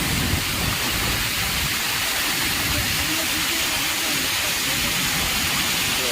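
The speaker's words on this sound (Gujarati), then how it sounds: "પાણી આમ ફાટફાટા જઈ રહ્યું છે" Overflow water from a village lake gushing out through its outlet, a steady broadband rushing roar that holds constant and close throughout, with no break or change in level.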